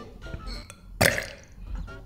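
A single deliberate burp, close and fairly loud, a short rough croak that rises out of a low rumble and fades quickly, with faint room noise before and after.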